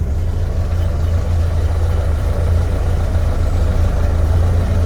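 A 1926 fuel truck engine runs steadily on a test drive, a deep, loud low-pitched rumble that holds constant throughout with no talk over it.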